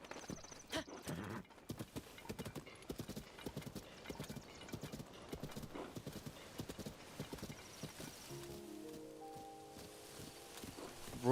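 Horse hooves clip-clop at a steady gallop-like rhythm in The Legend of Zelda: Tears of the Kingdom, with a brief whinny near the start and a soft game music cue rising toward the end.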